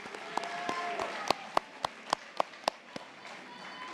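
Scattered, isolated handclaps ring out one at a time, about eight sharp claps spaced through the room at a nursing school pinning and convocation ceremony, over quiet hall ambience with faint murmuring.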